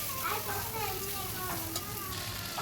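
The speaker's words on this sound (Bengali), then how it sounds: "দেখো মশলাটা কেমন কষা হয়ে গেছে, তেল ছাড়ছে।" Ginger and garlic paste masala sizzles and crackles steadily as it fries in hot oil while being stirred, under someone talking.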